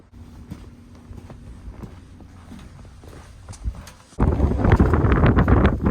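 Strong wind buffets a mountain fire tower at about 2,290 feet, soft gusts and faint footsteps giving way to loud, roaring wind noise across the microphone in the final seconds.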